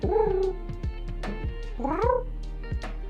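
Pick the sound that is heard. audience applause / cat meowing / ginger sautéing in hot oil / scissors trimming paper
cat meowing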